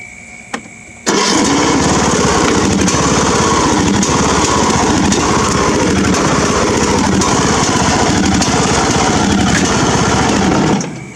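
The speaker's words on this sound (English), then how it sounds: "Let's do that test drive." A Craftsman riding lawn mower fires up after a brief quiet moment and runs steadily at close range, its small engine droning loudly and continuously until it cuts off near the end.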